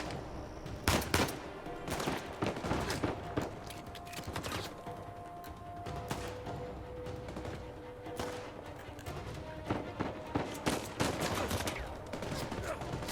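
Pistol shots ring out in the video game Uncharted 4, sharp cracks fired in uneven bursts and singles amid other game effects and scattered gunfire, with a player talking faintly underneath.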